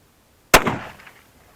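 A single loud blast from a Hatsan Escort pump shotgun fired outdoors at targets, a sharp crack followed by a short decaying echo and then quiet.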